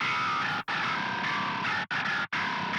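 Dense, fuzzy distorted guitar chords with the EQ disabled ring out loud and sustained, broken by three brief silent gaps between strums.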